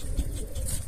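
Pigeons being fed give soft cooing calls and faint stirring, heard quietly against wind rumble in a short outdoor moment.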